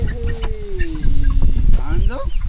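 Hens cluck and murmur nearby on a farm in Oahu, Hawaii, in short drawn-out calls, several birds overlapping against a busy outdoor background.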